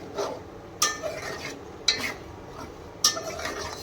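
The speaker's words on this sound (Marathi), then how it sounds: "आता हे सर्व आपल्याला एकजीव करून घ्यायचं आहे व एकसारखा हलवत राहायचा आहे" A utensil scrapes and knocks against a pot in a slow stirring rhythm while Kolhapuri misal masala cooks, with three sharper clinks standing out over a low background hiss.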